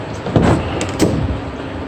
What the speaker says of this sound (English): These doors do swing out all the way.